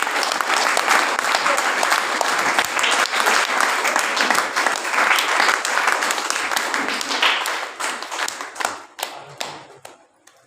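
Loud, dense applause from a crowd fills the room, holding steady before thinning into scattered claps at the end.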